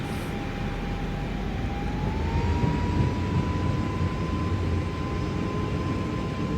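Twin Airbus jet engines spooling up under rising throttle in Microsoft Flight Simulator 2024, a steady broadband roar with a thin tone sliding upward midway, continuous and loud with no voices.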